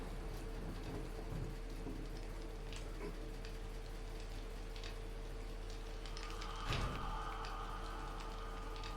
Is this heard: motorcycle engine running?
no